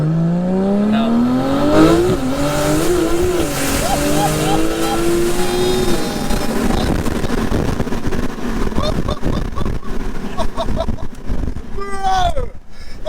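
A 1536 bhp Porsche 911 Turbo S with a 4.1-litre stroker engine accelerating hard, its engine note climbing loudly through several rising gear pulls, with excited voices shouting over the roar close inside the car.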